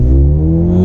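A Mercedes GLA 35 AMG (2021) accelerating hard in sports mode with a launch off the brake, its engine roaring loud and close in a steady, rising drone with strong low harmonics, no talking.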